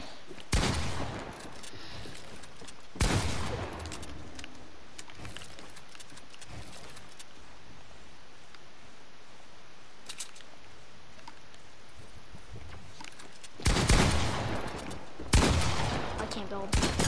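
Gunfire from a box PvP video game arrives in sharp bursts and rapid volleys, separated by quieter stretches of game ambience.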